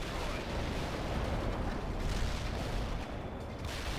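Sustained rolling barrage of artillery strikes in the World in Conflict video game, dense overlapping booms and rumbling blasts lasting throughout with no talk.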